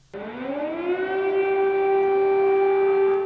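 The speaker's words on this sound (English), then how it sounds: "Air raid sirens blare above the Ukrainian capital" A loud air raid siren over Kyiv, Ukraine starts abruptly and rises in pitch, then holds a steady wailing tone without any voices.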